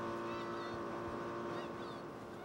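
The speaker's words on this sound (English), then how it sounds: "The boat was going in a pretty good full circle at full throttle" A runaway boat at full throttle swings around in a wide circle, its engine a steady, loud drone that holds without a break, with wind rushing over it.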